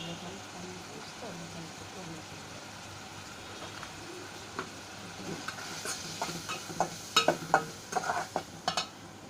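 A curry with green chilies sizzles steadily in a pan while a spoon stirs and scrapes, the scraping knocks growing louder and more frequent toward the end, heard close up without speech.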